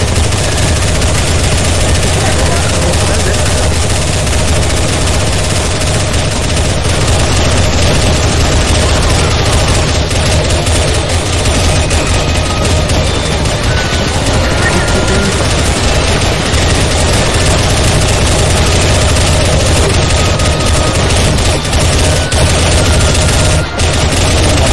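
Dense, continuous gunfire from many weapons in a CS:GO zombie escape round on the Mario Tower map, a loud unbroken wall of rapid shots lasting the whole stretch with no clear pauses.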